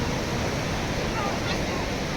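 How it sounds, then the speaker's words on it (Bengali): A loud, continuous roar of ocean surf and rushing water on the shore at Puri fills the air without a break, as a boat comes through big waves. "বড় বড় ঢেউয়ের মধ্যে দিয়ে"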